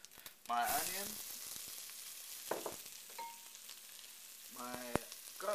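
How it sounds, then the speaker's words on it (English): Onion hits hot olive oil in a pot, a sudden sizzle that settles into a quieter frying hiss, with clanks of a utensil and brief speech. "I'm going to add a little bit of more olive oil to my pot, dump in my onion"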